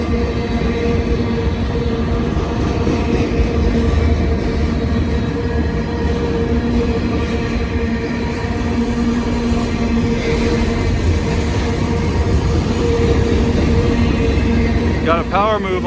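A long CSX military freight train hauled by many locomotives rumbles past in a crowded neighborhood, loud and continuous with heavy wheel and engine noise throughout and a brief high squeal near the end.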